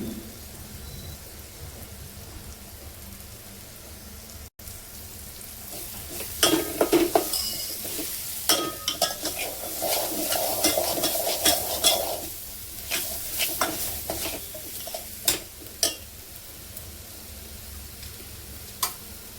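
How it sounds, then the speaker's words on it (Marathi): Spices and two spoons of gram flour sauté in hot oil for a Vidarbha-style wedding dal bhaji, a steady close sizzle with scraping stirs and louder crackling bursts in the middle, no voices. "मसाले आता तेलामध्ये परतून घेऊया।"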